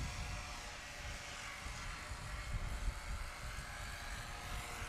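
A small STOL-competition airplane taking off, a continuous rough engine and propeller drone heard from a distance, steady and moderately faint throughout.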